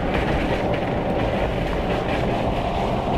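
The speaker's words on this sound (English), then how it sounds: "Trying to catch back up to the train quicker." A train rolls past on the rails with a loud, continuous rumble and clatter of wheels on track, close by and unbroken throughout.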